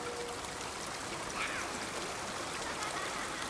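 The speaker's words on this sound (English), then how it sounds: "I can't believe we're getting teased with water in every shell that we listen to" Steady flowing water heard through a shell in the climbing game Jusant, a continuous soft stream-like wash with a faint trickle, fairly quiet throughout.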